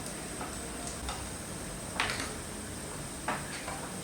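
A spoon scrapes and taps faintly against a pot as cassava flour is stirred into water, with soft irregular knocks over a steady background hiss and no voices.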